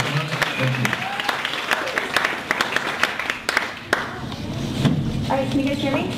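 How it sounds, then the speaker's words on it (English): An audience welcomes speaker Erin O'Neill with applause at a talk on brand storytelling: a round of clapping with distinct sharp individual claps, while voices speak over it near the mic. "join me in giving Erin O'Neill a warm round of applause"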